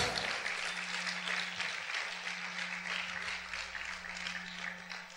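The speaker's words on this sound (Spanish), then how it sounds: "Aplaude fuerte al Rey en esta hora." Worshippers in a church applauding the King during praise, continuous clapping at a moderate distance over a low steady hum, easing slightly toward the end.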